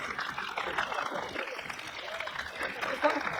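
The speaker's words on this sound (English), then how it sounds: "people give them a round of applause" Applause from a crowd at a film festival award ceremony, steady and moderately loud for the whole stretch, with some voices mixed in.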